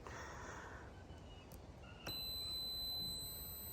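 A steady electronic multimeter continuity beep starts partway through and holds as a continuous high tone over faint background hiss.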